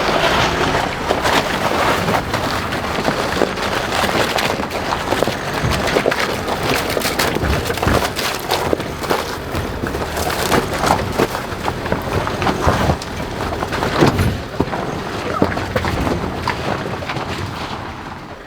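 SsangYong Musso Saracen on road tyres driving off-road, heard as a continuous rough rumble of tyres scrabbling over loose ground, with crunching, cracking debris and wind buffeting throughout.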